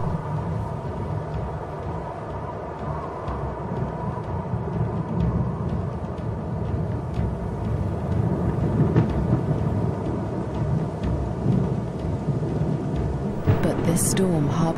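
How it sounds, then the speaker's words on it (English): A thunderstorm approaches over dry African grassland, giving a continuous low, heavy rumble of thunder that swells slightly over about fifteen seconds with no clear breaks. "A storm approaches."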